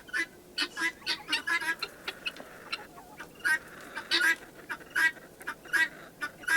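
Guinea fowl calling on a homestead: harsh, rapid, repeated raspy cries in bursts, fairly close, with scattered overlapping calls throughout.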